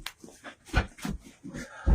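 Dog whimpering and giving short soft barks, a quick string of close yips and whines over about two seconds ending in a louder bark.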